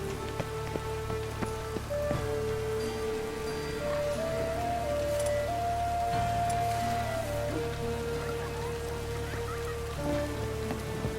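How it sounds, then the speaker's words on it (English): Steady rainfall in The Witcher 3 patters softly and continuously beneath a slow, sustained musical melody, even and moderately faint throughout. "And it's raining again."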